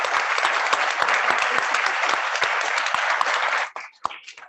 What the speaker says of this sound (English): I would like to give a round of applause to my beautiful teaching crew